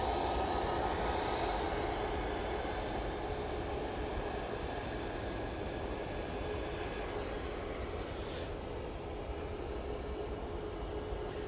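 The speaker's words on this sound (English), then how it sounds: "This Ryanair 737 MAX 8 is off to, is it Rushau, or is it Rushkow?" A Ryanair Boeing 737 MAX 8 departing Manchester Airport, its jet engines giving a sustained, steady roar that fills the whole stretch without talk.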